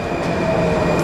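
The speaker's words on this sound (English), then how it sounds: "I decided to take, it's called the Metro." A Washington Metro subway train rumbles loud and close, with steady rolling noise and a faint high whine through the whole short stretch, no voices.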